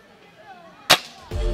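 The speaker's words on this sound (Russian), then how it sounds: "Наши девчонки, наравне с мальчишками, соревнуются в стрельбе по мишеням." A youth target-shooting event, with a single sharp gunshot crack followed a moment later by another loud report, standing out against a quiet background with faint murmuring.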